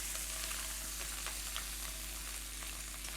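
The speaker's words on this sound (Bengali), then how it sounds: "দিয়ে চালটাকে একটু ভেজে নেব।" Washed parboiled rice frying in hot oil for khichuri gives a steady, even sizzle with faint crackles and a low hum underneath, continuous throughout and without any voices.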